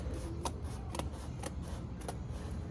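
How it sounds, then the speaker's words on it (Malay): Scissors cutting through cardboard for a Silent Hill Pyramid Head costume, four crisp rhythmic snips spaced about half a second apart over a steady background hiss, close and fairly quiet. "Dah siap lukis tu kita potong."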